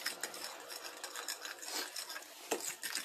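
An egg and potato mixture for tortilla de patatas is stirred in a bowl, producing quick, irregular scraping and clinking strokes, close and fairly quiet, with no talking.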